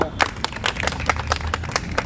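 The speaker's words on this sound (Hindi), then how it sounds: "तालियों के साथ स्वागत।" Audience applause welcoming a Haryana state party spokesperson at an Aam Aadmi Party gathering in Faridabad, a steady patter of hand claps from a modest crowd with sharp individual claps standing out.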